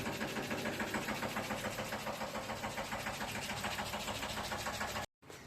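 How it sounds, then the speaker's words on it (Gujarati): A mini tractor engine runs steadily nearby, a dense mechanical chugging with a knocking pulse that holds constant until a brief cut near the end. "બીના ભાઈનું મિની ટ્રેક્ટર"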